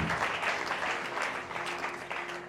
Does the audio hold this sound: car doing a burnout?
no